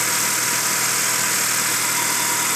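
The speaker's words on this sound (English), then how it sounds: "the compressor just kicked on and pulled it down" Air conditioning compressor running on a 2013 Honda Accord being rebuilt after collision, a steady, even mechanical hum and hiss throughout, close and unbroken, with no talking.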